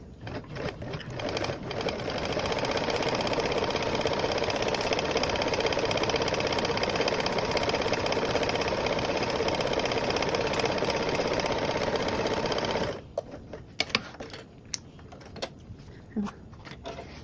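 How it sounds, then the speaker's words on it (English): Sewing machine basting a bag panel and lining together with a narrow seam allowance, running as a steady, loud, continuous whir for about eleven seconds before stopping, followed by quieter handling noises. "Just gonna baste with a 1/8 seam allowance."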